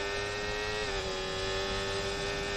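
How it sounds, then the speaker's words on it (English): A Formula 1 car engine in the racing video game F1 24 drones at steady high revs with a thin, high-pitched electric ERS whine riding on top, continuous and fairly loud. "the ERS makes the engine sound really strange to me. Kind of get this weird high pitch."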